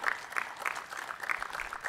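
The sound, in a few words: audience clapping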